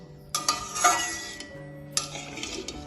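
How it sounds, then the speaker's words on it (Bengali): Bengali egg posto curry being stirred in a pot just after water is added, with a couple of clattering bursts of a spoon scraping against the pan over a faint simmer. "সবকিছুকে আমি ভালোভাবে মিশিয়ে নেবো"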